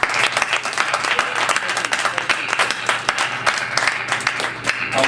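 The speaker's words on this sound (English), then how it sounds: "I want to give Brother Kwasi another round of applause" An audience applauding Brother Kwasi at a gathering, a crowd's lively, uneven clapping with individual sharp claps standing out, heard alone at moderate loudness for about five seconds.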